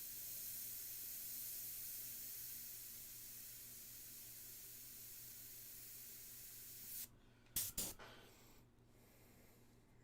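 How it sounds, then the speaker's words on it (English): A paint sprayer hissing in a steady, even stream of spray for several seconds, then cutting off abruptly with a few short bursts and clicks near the end. "it's spraying beautifully"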